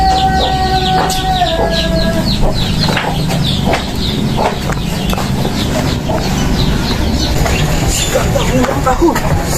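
Village chickens clucking steadily with a rooster crowing, busy and close throughout, with people talking over the flock.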